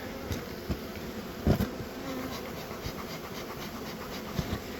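A dense, steady buzz of many honeybees at an opened hive during a cold-climate inspection, close and continuous, with occasional soft knocks and scrapes mixed in.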